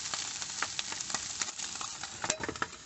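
Food sizzling and frying in a pan on a camper van stove, a steady close crackle with sharp spitting pops throughout, no voices.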